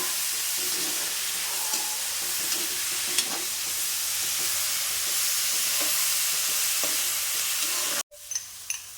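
Sliced onions sauté with salt in a pan for a home-style chicken curry, a continuous close sizzle with occasional stirring scrapes and clinks, cut briefly near the end before softer frying resumes; no talking.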